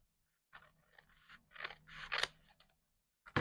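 Scissors cutting paper for a junk journal notebook, a few short crisp snips and crunches close by in an otherwise quiet room.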